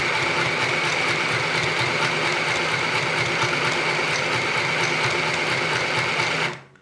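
An Easymaxx compact sewing machine stitching a t-shirt, running as a loud, steady mechanical whir with a rapid needle rhythm for several seconds before it stops abruptly.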